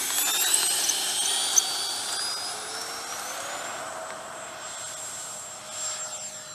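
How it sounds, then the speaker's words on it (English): A Dynam Meteor RC jet plane on its maiden flight passes with a high, whining electric ducted-fan roar, its pitch sliding as it flies by at moderate distance, with no talk. "Today's June 1st, 8:40 in the morning, maiden flight."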